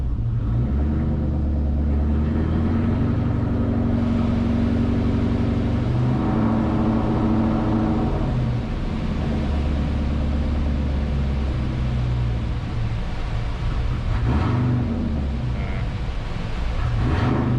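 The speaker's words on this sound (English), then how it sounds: "I'm more concerned with how it's going to come back down to an idle from a roll" An engine of the Terminator Mustang running on a dyno with Holley EFI, a loud, steady low rumble whose tone shifts a few times as it settles back toward idle, continuous and close with no talking.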